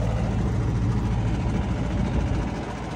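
A tractor engine runs loud and steady with a low, chugging drone while the tractor drives through a village to fetch water, hauling a trolley behind it.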